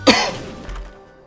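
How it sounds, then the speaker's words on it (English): A single short cough bursts out close to the microphone, followed by a fainter rough trailing breath, during a run of the modded Binding of Isaac game Antibirth. "I was coughing and I got blown into it."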